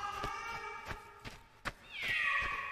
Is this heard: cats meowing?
yes